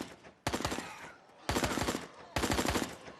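Automatic gunfire in the survival game Fear the Night, three loud close bursts of rapid shots separated by short pauses, with no talking.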